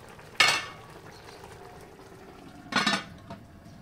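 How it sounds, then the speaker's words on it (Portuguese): A lid is set onto a cooking pot of simmering meat with sweet potato and pinhão: two sharp metallic clanks about two seconds apart, close and fairly loud over a quiet steady background hiss. "Então podemos tampar a nossa panela,"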